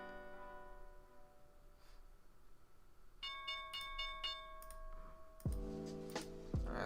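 A stock market opening bell chimes as a series of rapid, clear electronic bell tones, followed by louder ringing strikes, against a quiet background with no voices.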